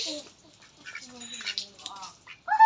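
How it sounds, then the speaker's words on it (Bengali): Chinese ducks brought for a Padma puja offering in a village give short nasal quacks and calls, close by, mixed with people talking. "চীনা হাঁস এই যে হাঁস মানে হাঁস আর পাঠা দিতে হয় পদ্মা পূজায়"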